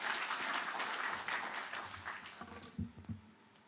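Audience applause at a university innovation and exhibition week event, a steady broad wash of clapping that fades over a few seconds into a few scattered, louder individual claps near the end.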